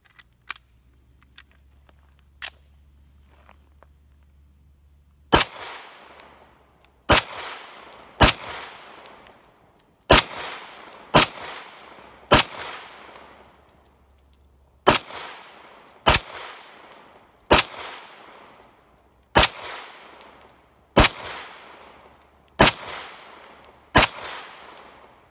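CZ P-09 pistol fired at a shooting range: a few distant pops at first, then a long string of loud, sharp single gunshots at irregular intervals of about one to two seconds, each ringing out with a brief echo.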